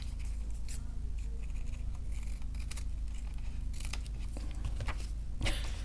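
Scissors snip through fabric scraps in a few close, crisp bursts of cutting and rustling over a steady low background hum, with no talk.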